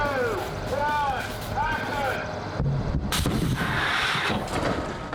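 A sudden loud pyrotechnic explosion effect on a film set erupts midway and rolls into a broad roaring rumble, following a steady background of engine drone and chatter.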